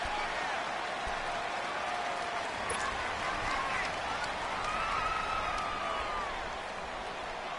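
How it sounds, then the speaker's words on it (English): Stadium crowd in the Dome during an American football video game, a steady loud roar of cheering voices throughout with a faint tonal whistle-like sweep rising through it. "The crowd here in the Dome making things difficult."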